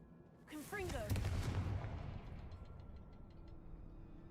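A Confringo blasting spell in the Hogwarts Legacy video game fires with a rising whoosh and erupts into a loud, booming explosion whose rumble slowly decays, accompanied by faint musical tones.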